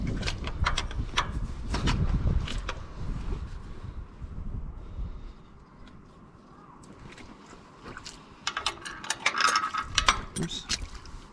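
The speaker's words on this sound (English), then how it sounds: "Now I think we can unbolt it from the manifold." A ratchet works the bolts holding a Farmall 560 tractor carburetor to the manifold, giving close, quiet bursts of rapid clicking. The clicking stops and starts with short pauses and some handling noise between strokes.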